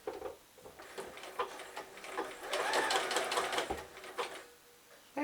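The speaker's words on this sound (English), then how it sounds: "I've set my machine to the zigzag stitch" A sewing machine runs a zigzag stitch along the edge of fabric applique, its needle chattering in quick rapid bursts that swell into a sustained run and then slow, close and clear without talk.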